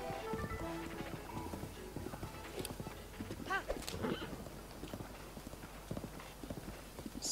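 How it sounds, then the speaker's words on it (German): A horse gallops in the video game Zelda: Breath of the Wild, its hooves clip-clopping in a fast steady rhythm at low volume, with a brief whinny and faint game sounds around it. "Es ist doch wirklich angenehmer, mit dem Pferd zu reisen, nicht wahr?"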